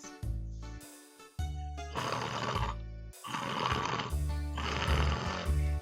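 Loud, drawn-out rasping snores from a sleeping fox in a storybook reading, rising and falling in about four long cycles with short gaps between them, close and with no talk.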